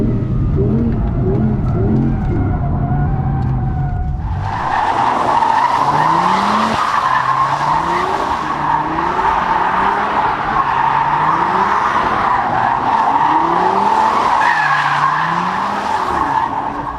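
Audi R8 GT drifting in Torque Rear mode, its tires skidding in long continuous squeals over a steady, loud engine drone, with repeated rising and falling engine sweeps throughout.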